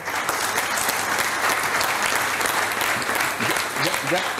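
Audience at an association's 20th-anniversary gala breaks into steady, full applause that holds at an even level throughout, with a few voices mixed into the clapping.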